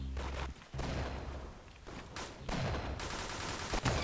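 Rapid automatic bursts from a golden AK-47 rifle in the Roblox shooter Arsenal, loud and dense with brief gaps between volleys.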